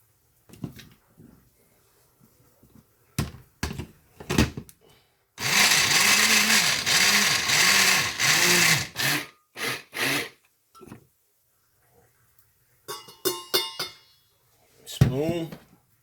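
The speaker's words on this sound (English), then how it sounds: "Blend it up real good, fine." A kitchen blender whirs loudly for about five seconds while blending dirty rice ingredients, with short bursts before and after, clinks of a spoon and utensils, and someone speaking between runs.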